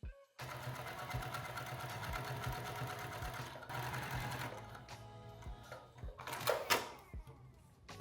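A sewing machine stay stitches around a lounge pant waistband at its longest stitch length, running steadily and close for most of the stretch before a brief pause and a few clunks near the end.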